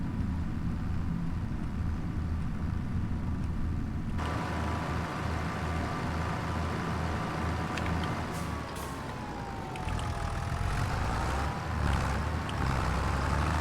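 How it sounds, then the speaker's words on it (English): Tractor engine in Farming Simulator 25 drones steadily throughout, a low rumble with a rising and falling pitch as the gears shift, loud and continuous with no talking. "I love this tractor because like you can see like the gears shift and stuff"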